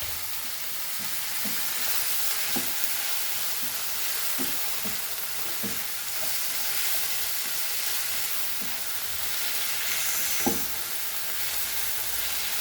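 Shark fish eggs frying and being stirred in a pan, a steady sizzle throughout with soft scraping strokes at an irregular pace, close up with no talking.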